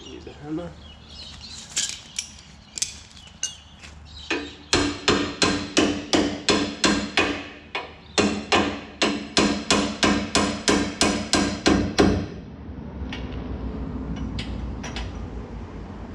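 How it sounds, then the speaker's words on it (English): Metal hammer blows ring out in a steady rhythm while fitting an adjustable Panhard rod to a 4WD, about twenty sharp strikes in quick succession after a few scattered taps, then the hammering stops. "Use a hammer."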